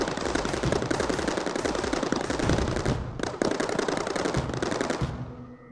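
Arc and Lancer turrets fire in the video game Mindustry, a dense, loud stream of rapid crackling shots that runs steadily, briefly thins, then resumes before cutting off near the end.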